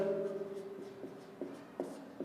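Writing on a board as a quick run of short scratchy strokes, close and fairly soft, with brief pauses between them.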